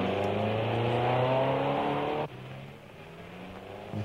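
A car engine in a film drones loudly and steadily, then drops abruptly to a quieter idle before a brief rise in revs at the end.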